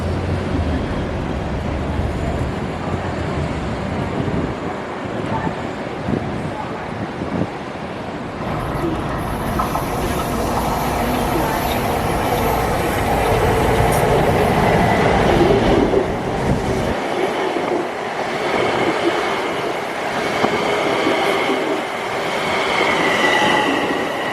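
A train rolls toward New York City, a steady loud rumble with wheel clatter and rising squealing in the second half, heard from on board and continuing throughout without pause.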